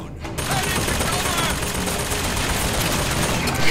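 Rapid pistol gunfire in the video game BioShock Infinite, a dense, loud burst of shots and combat noise filling the clip without pause, ending in a sharper hit.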